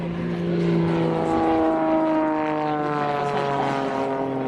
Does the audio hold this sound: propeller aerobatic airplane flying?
yes